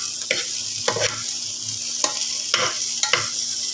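Chopped garlic sizzles steadily in hot oil in a pan, browning before tomatoes go in, while a spoon scrapes and stirs in regular strokes, close and clear.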